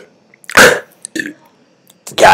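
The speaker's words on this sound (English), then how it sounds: "God damn, these burps." A man lets out a few burps in quick succession, loud and close, with short gaps between them and nothing else going on.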